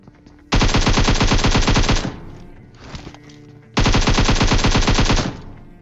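Automatic gunfire in the mobile game PUBG Mobile, with Uzi submachine guns in play: two long, loud rapid-fire bursts separated by a short quieter volley, all dense and close.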